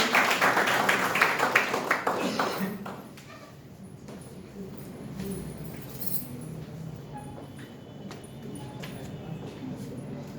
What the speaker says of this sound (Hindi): जोरदार तालियों के साथ आप लोग स्वागत कीजिए